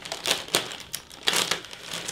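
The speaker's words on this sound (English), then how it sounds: "It's not resealable either, so we'll just cut that with the knife to open it up" A plastic bag holding an Airfix 1/72 Mosquito B.XVI model kit is cut open with a knife, giving several close, bright crinkling bursts in an uneven rhythm.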